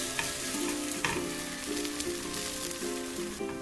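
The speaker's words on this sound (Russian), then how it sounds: "Блинчик обжарился" Steady oil sizzle of a pancake frying in a pan, continuous crackling and spitting with a few sharper pops, close up.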